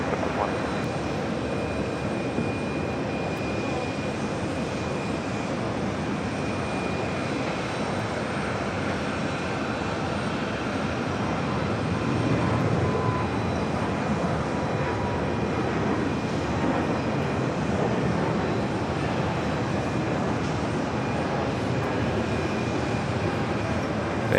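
A jet airliner landing on runway 4 right at JFK airport gives a steady, broad engine roar that holds throughout with no break or distinct peaks.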